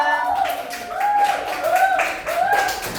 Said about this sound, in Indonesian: Kasih tepuk tangan buat kelompok 2 sama kelompok 3.